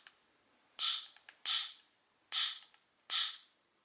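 A replacement ratchet in a Warbotron toy joint gives four sharp, crisp clicks, each with a small preceding tick, spaced unevenly and heard up close in quiet surroundings.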